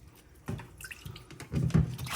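Water drips and splashes as soaked black fungus is rinsed, drained and squeezed in a kitchen, a few quiet separate drips giving way to a denser trickling burst near the end.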